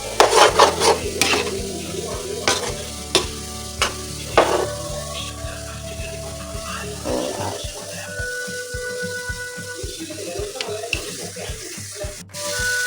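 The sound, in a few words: potatoes frying crisp in a pan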